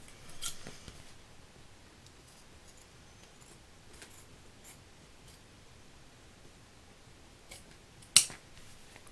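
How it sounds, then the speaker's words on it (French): Scissors snipping the corners of a faux leather book cover on a desk, a few faint rustling cuts with one sharp, louder snip near the end, no voices. "On va devoir couper le cuir parce que sinon c'est trop grand."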